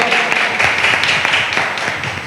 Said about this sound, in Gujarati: તો તાળી વગાડી જરા પ્રભુને માટે